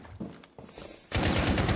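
Gunfire from a Rainbow Six Siege match: scattered shots, then a sudden loud burst of sustained rapid fire that fills the second half.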